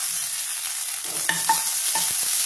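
Grated ginger and whole cumin seeds frying in hot oil for a tempering in a pan, a soft steady sizzle with a few light stirring scrapes and small clinks, close and alone.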